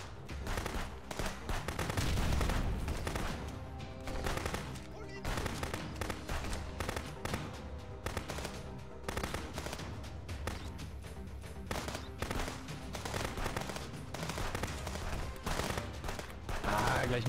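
Sustained gunfire in the police game Contraband Police, with dense, repeated shots and bursts that keep going, while someone talks over the shooting.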